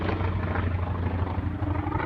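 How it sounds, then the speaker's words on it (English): A small personal aircraft drones overhead near a local airport, a loud steady engine rumble with a low throbbing hum that holds constant throughout, with no talking. "Personal planes that people fly over here all the time."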